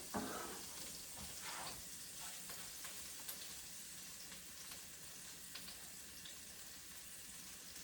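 Garlic and beef frying in oil in a pan for a beef and bell pepper stir-fry, a steady close sizzling hiss with scattered crackles and stirring, continuous and fairly faint.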